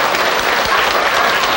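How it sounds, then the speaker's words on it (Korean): A church congregation claps during a sermon, a loud, dense burst of steady clapping with no voices over it. "박수를 치려면 확실히 치지."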